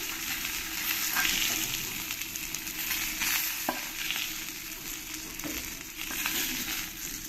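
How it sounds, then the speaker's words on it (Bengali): Pomfret fish frying crisp in hot oil, a dense, steady sizzle and crackle that carries on without pause, close and fairly loud, with no talking. "আমি সব মাছগুলো একইভাবে কড়া কড়া করে ভেজে নিয়েছি।"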